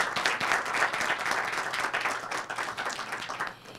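Applause from the audience at a public defense office event in the Dominican Republic, dense sustained clapping that holds strong and then tapers off toward the end.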